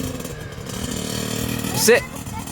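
Small kid's dirt bike engine held in first gear as a 12-year-old learns clutch control, a close, steady buzzing drone with a short rise near the end, a voice talking over it.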